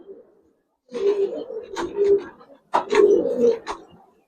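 Close coos from giribaz pigeons come in two throaty, rolling bursts separated by a brief pause, with a few sharp wing or foot sounds mixed in.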